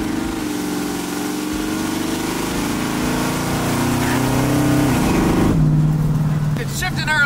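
Supercharged 1965 Ford Mustang V8 with a blower, lowered, driven in stormy weather: a steady engine drone builds under revs, then a sharp shift with a change in pitch near the end, with a voice talking over it.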